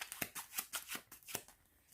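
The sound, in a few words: shuffling a deck of playing cards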